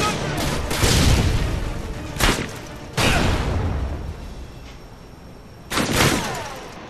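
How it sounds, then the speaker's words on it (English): Stun grenade in Modern Warfare 2: several sharp, loud bangs spaced a second or more apart, each with a short rumbling decay, amid gunfire-like bursts and background game noise. "Tossing stun grenade!"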